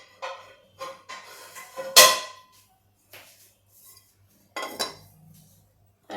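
A small metal pan set down on a gas stovetop while cooking spicy stuffed brinjal: a few scattered clinks and knocks, one louder metallic clank in the middle, close by with no talking.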